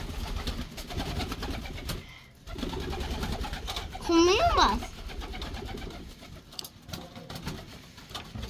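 Embroidered pigeons coo softly against a noisy, rustling background, while a voice speaks briefly nearby.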